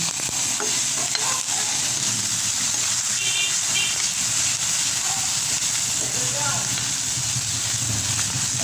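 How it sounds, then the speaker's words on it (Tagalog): Red onion frying in hot cooking oil for a chicken sotanghon soup, giving a steady close sizzle with occasional stirring scrapes throughout, with no talking over it. "nilagay ko na ang mantika na may red onion"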